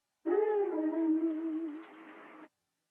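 A chopped vocal sample, treated with cassette-style hiss and saturation for a vintage feel, sounds as one sustained, harmonically rich sung tone lasting about two seconds. It is fairly loud and alone, with a slight wobble, then cuts off abruptly.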